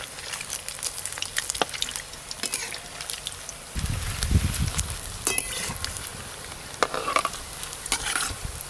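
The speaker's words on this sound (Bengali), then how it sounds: "এবার একটু ভালো করে ভাজবো।" Rohu fish pakoras fry in hot oil in a pan while being stirred, giving a soft, steady sizzle with light scraping and occasional clinks, fairly quiet and close, with no talking.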